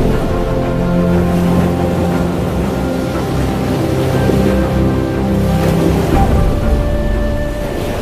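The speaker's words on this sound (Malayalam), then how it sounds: "അറബിക്കടലിന്റെ ഇരമ്പലുകൾ ഏറ്റുവാങ്ങുകയാണ് മണൽത്തരികൾക്ക് മേൽ പച്ചപിടിച്ച കോഴിക്കോട്ടെ കോനാട് കടൽ തീരം" Arabian Sea waves roll onto the grassy sand of Konad beach in Kozhikode, a loud, continuous close-up roar of surf with no voices.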